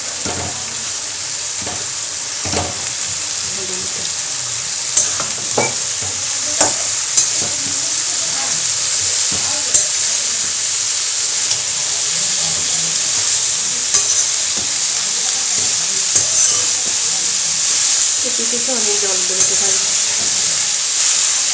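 Chopped cabbage fries in a hot pan, a continuous loud sizzle and hiss with scattered scraping knocks as it is stirred throughout.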